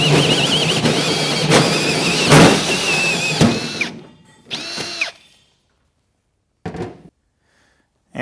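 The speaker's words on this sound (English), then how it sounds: "Go ahead and cut your hole." A power drill with a hole saw cuts a 4-inch hole in a truck bed, a loud whining grind that bogs and surges in bursts, then stops, with a brief final spin after a pause.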